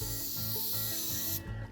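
GX-3 plastic restorer sprayed onto car trim, a close, steady hissing spray lasting over a second before cutting off abruptly.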